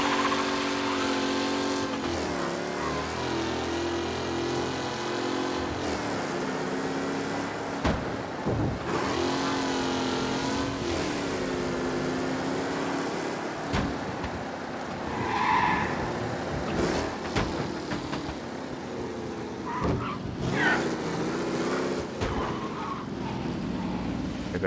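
A car in Mafia Definitive Edition, a vintage-style vehicle without ABS brakes, drives along with a steady engine drone, shifting pitch and tire skids and scrapes breaking through, near and continuous.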